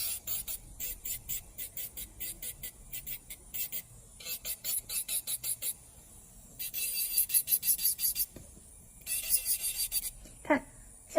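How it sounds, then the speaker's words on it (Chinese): A nail file rasps back and forth along the side edges of a press-on nail in quick, rhythmic bursts of short scraping strokes, close and fairly quiet, with brief pauses between sets. "接着打磨左右侧边的这个厚薄度"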